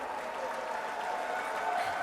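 Fans at the Grand Slam of Darts final cheer and applaud as one steady, dense wash of crowd noise, with no clear breaks across the clip.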